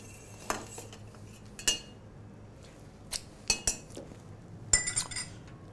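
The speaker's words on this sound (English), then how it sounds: "I'm just going to stir that over ice to get it nice and cold." Ice rattles and clinks against a metal shaker tin as a chocolate cocktail is stirred, a series of sharp irregular metallic clinks close up, with no talking.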